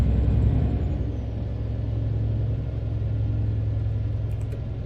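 A steady, loud Ford F-Max truck engine rumble in Euro Truck Simulator 2 drones continuously, low and even with no pauses.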